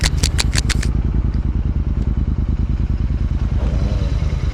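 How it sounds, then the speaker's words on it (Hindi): A Royal Enfield Continental GT 650 motorcycle falls over with a burst of loud clattering and scraping at the start. Its engine keeps idling with a steady, rhythmic thump close by, and there is no talk. "तीन दिन में चौथी बार ये बाइक गिर रही है"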